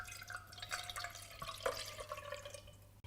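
White wine poured into a pot while making a Savoyard fondue, a soft, quiet trickle of liquid with faint dripping and splashing that runs steadily for a few seconds.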